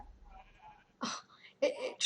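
Two short bleats from a Minecraft sheep sound close and clear in the game, with near-silence and faint background tones between them.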